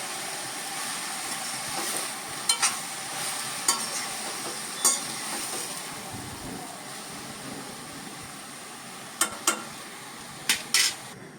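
Taro leaves sizzle softly in a hot pan under a constant hiss, broken by occasional sharp scrapes and clicks of a utensil against the metal.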